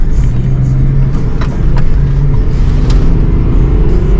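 A BMW E36 TDS car drives with a loud, steady engine drone that swells slightly as it pulls along, heard close and continuous throughout.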